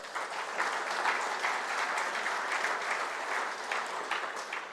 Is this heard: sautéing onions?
no